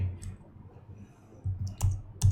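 Sparse clicks of computer keyboard keys while code is typed, a few isolated taps then a quicker cluster near the end, close and fairly quiet.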